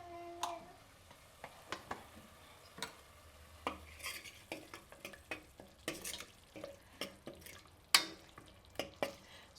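Onions frying in a pot for paya curry are stirred with a utensil, giving a steady run of scraping clicks and taps over a soft sizzle, close and fairly quiet, with no talking.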